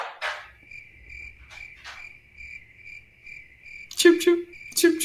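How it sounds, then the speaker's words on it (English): Crickets chirp as a sound effect, a steady high trill running throughout, broken by a few sharp bursts of noise at the start and near the end. "Crickets."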